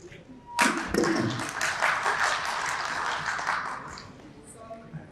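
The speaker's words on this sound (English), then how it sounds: "let's give them a big round of applause" An audience at a real estate conclave fireside chat breaks into applause that starts abruptly, stays full and steady, then slowly thins out.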